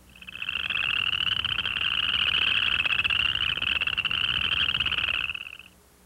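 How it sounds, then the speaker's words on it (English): A steady, continuous western chorus frog chorus of high, trilling calls that carries on unbroken for several seconds, then stops abruptly near the end. "Now, let's hear the call of the western chorus frog."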